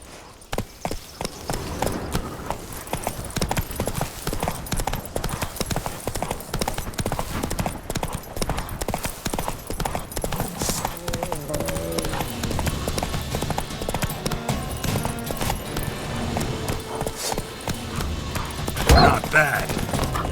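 Hoofbeats of the horse Roach galloping in Witcher 3, a steady rapid clip-clop running throughout over game music, with a louder burst near the end.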